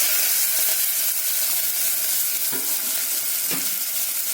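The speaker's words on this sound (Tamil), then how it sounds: "இதில் நல்லெண்ணெய் ஊற்றி நல்லா காஞ்சிருச்சு. ஜீரகம், கடுகு, வந்து வெங்காயம்" Cumin seeds, mustard seeds and onion fry in hot sesame oil with a steady, close, loud sizzle, broken by a few stirring scrapes.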